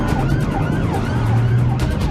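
An ambulance siren wails loud and close in a continuous rising and falling tone, with traffic rumble underneath.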